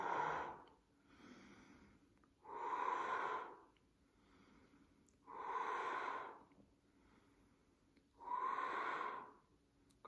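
Loud, forceful breaths during a core-strengthening exercise alternate with quieter intakes, four strong exhales spaced about every three seconds, close to the mic and with no talking.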